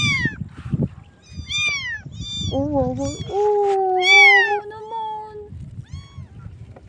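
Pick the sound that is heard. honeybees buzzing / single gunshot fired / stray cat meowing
stray cat meowing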